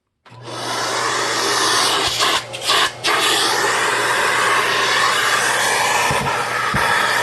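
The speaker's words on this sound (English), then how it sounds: "So I'm going to have Thomas volunteer to vacuum that off" A vacuum cleaner starts abruptly and runs loud and close with a steady broadband roar and low hum, briefly dipping twice as the suction is blocked, then continuing strongly to the end.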